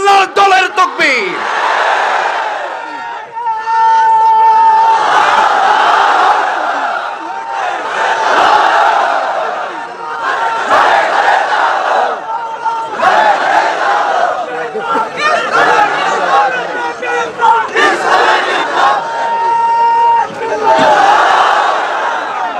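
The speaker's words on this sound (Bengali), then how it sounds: "এই তাকবীর হচ্ছে আল্লাহর দলের তাকবীর" A large crowd at an open-air Quran tafsir mahfil chants the takbir, Allahu Akbar, in loud surging waves of massed voices. The bursts repeat several times, with short dips between them.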